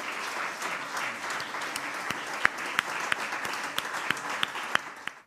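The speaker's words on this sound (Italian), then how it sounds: "vi chiedo di dedicare alla figura del Presidente della Repubblica il più caloroso e rispettoso degli" A warm, sustained round of applause fills a parliamentary chamber in honour of the President of the Republic, the steady clapping punctuated by a few sharper, louder individual claps.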